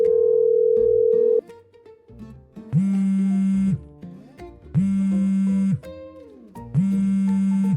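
A phone call rings out through the handset: repeated electronic ringback tones in a regular on-off rhythm, loud and clear with no voices over them.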